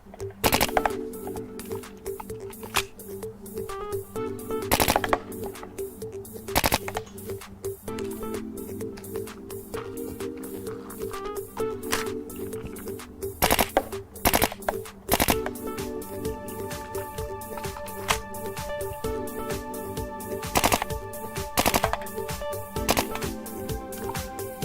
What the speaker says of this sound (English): How about some 3-round first strike bursts?